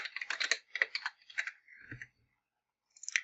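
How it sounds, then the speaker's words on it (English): Quick bursts of clicky keystrokes on a computer keyboard, close and crisp, pausing briefly before a final short flurry, with no speech. "Type your text, double click"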